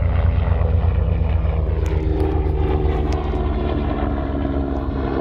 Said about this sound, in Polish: Nie przypuszczałem, że będzie helikopter leciał.